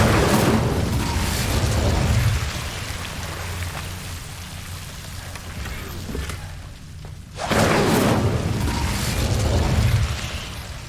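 A fire spell cast in the video game Hogwarts Legacy on PS5 against Devil's Snare guarding a chest: a loud crackling, rushing burst opens, a quieter stretch follows, then a second roaring surge of flame near the end.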